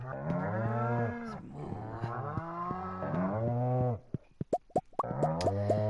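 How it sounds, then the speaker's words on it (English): Cows moo again and again in the Stardew Valley farming game, long harmonic lowing calls that are loud and close. A quick run of short plopping clicks comes in a brief pause before the mooing starts up again. "Okay, now for the brown cows. Moo cows!"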